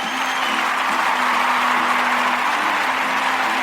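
A live evening crowd cheers and applauds steadily for a few seconds, a dense, even wash of clapping and excited noise with a faint steady hum running underneath.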